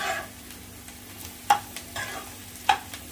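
Onions browning in a pan for prawn biryani (kolambi bhat), a soft steady sizzle broken by two sharp clacks of a spoon against the pan as they are stirred, no voices.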